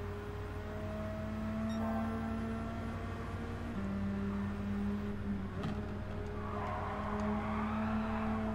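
Racing car in Gran Turismo 7, a Japanese Clubman Cup 550 race, sliding through a corner with a steady engine drone and sustained tire squeal, loud and continuous with shifting pitch, no talking.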